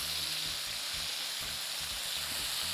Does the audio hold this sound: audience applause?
no